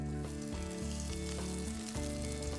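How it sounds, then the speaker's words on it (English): Eggplant slices fry in olive oil in a nonstick skillet over medium heat, a steady sizzle running under a loud backing music track. "Cook half the eggplant slices so they don't overcrowd the pan."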